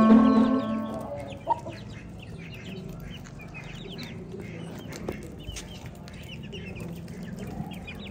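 Aseel chickens cluck softly and repeatedly while they feed, with short scattered calls at close range over a quiet farmyard background and no talking.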